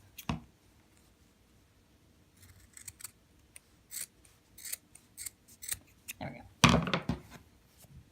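Scissors snip through fabric while a stuffed ball toy is being sewn, a handful of short, close cuts that grow louder toward the end, with one heavier snip near the close.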